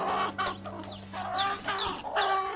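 A hen clucks repeatedly up close, a series of short throaty calls with brief pauses between them.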